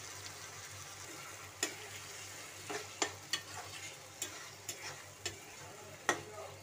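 Boiled chana dal is stirred into fried masala in a pan: a quiet, steady background hiss with a handful of soft, separate clicks and scrapes from the spoon.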